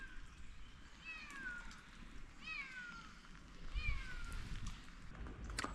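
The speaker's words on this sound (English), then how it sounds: "You can hear it meowing." A cat meows on the stone seating of the ancient Roman theatre at Myra. Three drawn-out meows come at spaced intervals, fairly faint and somewhat distant, over quiet outdoor ambience.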